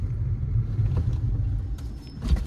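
A car rolls slowly to a stop in the shade below the Thirumalaikovil hill temple, its engine giving a steady, close, low rumble with a slight rise near the end. No voices.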